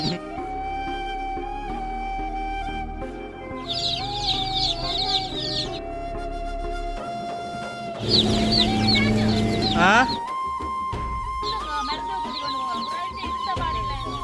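Chickens cluck and squawk close by, with a rooster-like call and other bird chatter over a steady background hum.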